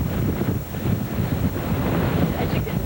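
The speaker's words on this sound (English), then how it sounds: "I'm going to step out just very briefly into the full force of the winds to give you an idea of what that is like." Hurricane-force wind buffets a field reporter's microphone outdoors in a severe storm, a loud, continuous roaring rumble that swells and gusts throughout with no clear talk.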